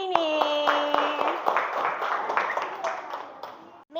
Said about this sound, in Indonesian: Tepuk tangan buat hari ini.